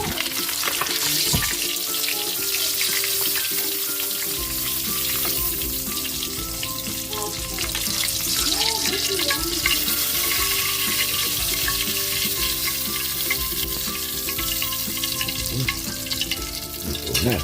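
Tilapia frying in hot oil makes a loud, continuous crackling sizzle close by, with light spatter and a few utensil knocks throughout.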